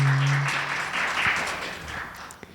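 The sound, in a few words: audience clapping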